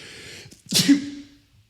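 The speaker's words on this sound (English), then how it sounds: "I'm going to sneeze potentially here" A single sharp sneeze from a person, with a quick inhale just before the loud burst and a brief breathy tail, close to the microphone and otherwise quiet.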